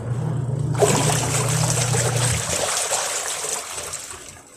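A ghutra headscarf is washed in water, with a low hum giving way to a loud splashing, sloshing rush of water close by that gradually fades toward the end, no voices.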